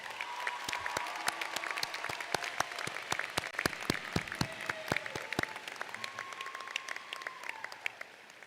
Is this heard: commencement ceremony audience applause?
yes